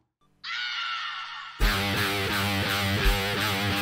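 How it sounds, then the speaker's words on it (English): A sampled scream opens a homemade punk track in a random scale, a sustained high wail breaking abruptly into loud distorted guitar and drums. "what was that scream?"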